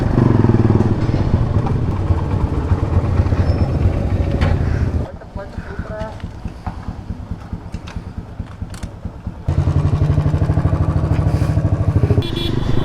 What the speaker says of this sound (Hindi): ये मोटरसाइकिल है